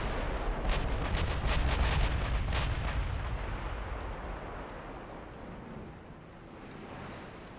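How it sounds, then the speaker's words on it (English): Heavy 16-inch naval guns fire in a video game as a loud, rumbling roar of booming blasts that fades into a long, washing rumble, with no talking. "I think 16-inch guns will probably do a fair bit of damage"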